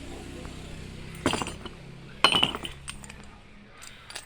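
Metal solar panel end clamps being handled, with two bursts of clinking metallic rattles over a quiet background.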